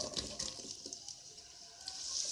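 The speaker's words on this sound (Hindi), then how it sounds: "प्याज डालेंगे" Onions dropped into hot oil in a karahi sizzle with a hissy, crackling bubbling, close but fairly quiet, with no voices.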